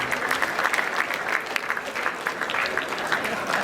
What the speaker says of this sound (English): Can we clap for Sadiq?